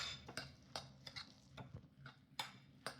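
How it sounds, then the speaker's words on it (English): Fish cake mixture is worked together with breadcrumbs in a bowl, producing soft, faint, irregular taps and clinks of a utensil against the bowl in a loose mixing rhythm, with no voice over them. "Keep mixing, keep mixing"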